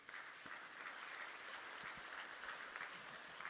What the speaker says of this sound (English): Can we give a round of applause for babies?